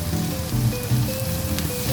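Onions and tomatoes with a pinch of salt sizzling in a pan, a steady dense crackle and hiss close by with no voices over it.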